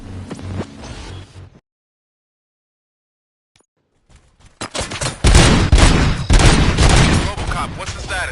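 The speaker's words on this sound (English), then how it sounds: "Gunshots? What's going on?" Bursts of gunfire and booming shots from a Robocop online video game erupt loudly after a stretch of silence, preceded by brief game voice talk at the start.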